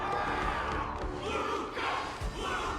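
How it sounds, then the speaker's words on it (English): A video game crowd roars and cheers in a dense, steady mass of voices, rising and falling in swells across the whole moment, with no distinct single talker. "They're all cheering for you, Luca."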